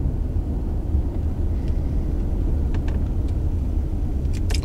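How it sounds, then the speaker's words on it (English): A car rolls slowly past a kids' park in Everett, a steady low rumble of engine and tires close by, with a few faint distant clicks and knocks on top. "So I'll drive around this very slowly."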